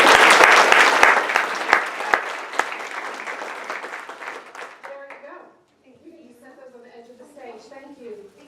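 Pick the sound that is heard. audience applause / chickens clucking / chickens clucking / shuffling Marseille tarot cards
audience applause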